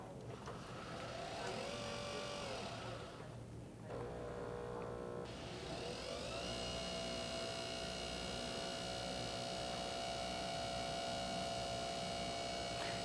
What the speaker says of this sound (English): It's a little bit quieter because it spins rather than pressure brewing.